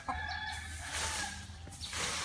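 Chickens cluck and call faintly in the distance, with brief drawn-out notes over a soft background hum.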